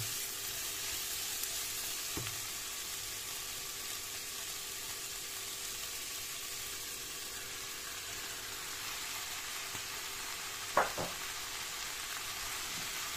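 Chicken breasts go into a pan of softened, colorful vegetables with a steady, even sizzle of frying, broken by a couple of brief clatters from the pan or utensil.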